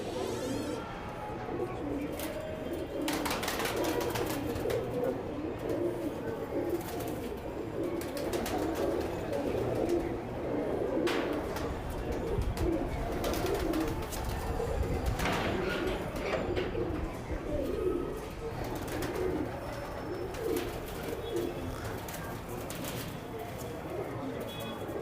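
Pigeons at a club loft coo softly in the background through a long stretch of busy, rustling ambient noise, with occasional faint voices.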